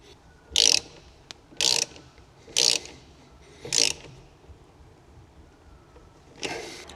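A ratchet tightens a washer and nut onto a cable terminal in a converted 4x4's electrical setup, with five short bursts of rapid clicking, close and crisp, separated by pauses.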